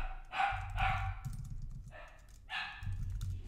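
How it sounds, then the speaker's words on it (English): Dog barking in the background of a room, a few sharp barks in quick clusters, moderately distant, with keyboard typing clicks underneath. "Sorry if you can hear the dog in the background."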